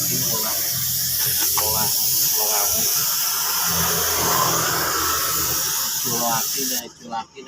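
A spray gun paints motorcycle parts, including the engine case, with a loud, continuous airy hiss close by, as voices speak over it, before the spray cuts off near the end.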